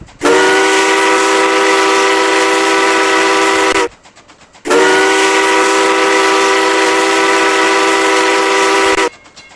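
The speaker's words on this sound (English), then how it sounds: "And that train was extremely loud whatsoever" A train whistle on the RO-Scale Strasburg Railroad in a Roblox railroad game sounds two long, very loud, harmonically rich blasts, each about four seconds, separated by a short gap with faint rumbling beneath.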